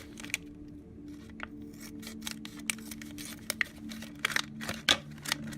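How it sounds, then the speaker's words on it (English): Scissors snip open a Lego Collectible Minifigures Series 17 mystery pack, a quick close series of sharp crisp cuts and plastic crinkles with small rustles between them. "I cut it right this time."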